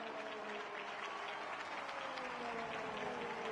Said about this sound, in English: I can hear the clapping from the AI crowd there.